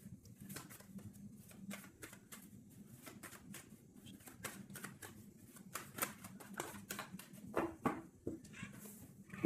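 A deck of tarot cards being cut by hand makes a scatter of soft, quick papery clicks and flicks. The clicks grow busier toward the end over a steady low hum, with no talking.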